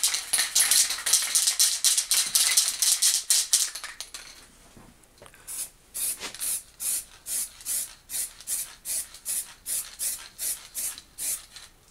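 A spray can lays epoxy primer onto an Opel Corsa body, with a dense run of rapid hissing bursts, then a pause and a second series of regular, evenly spaced short sprays, close and clear without talk.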